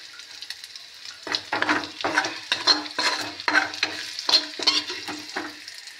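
Potato fry sizzles in a pan while a utensil stirs it in a steady rhythm of scraping strokes over a constant frying hiss, close and clear, no talk.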